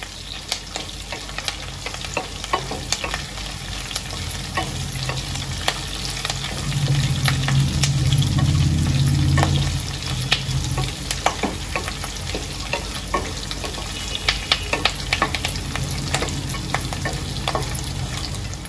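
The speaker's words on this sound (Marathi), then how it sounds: "सर्व कढीपत्ता पण मी ह्याला तेलामध्ये चांगलं तळून घेते." Curry leaves sizzle hard in hot oil while being stirred for a murmura snack premix, a dense steady crackle with scraping stirs that swells louder midway, then settles.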